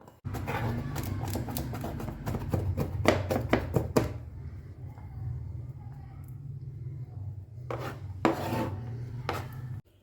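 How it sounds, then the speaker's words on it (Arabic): A knife chops peeled garlic cloves on a cutting board in a fast series of close, sharp knocks, pauses over a low steady background hum, then resumes with a few more cuts. "عندي راس توم كده مقشرها، امسكهم مقطعهم بقى كده اهو"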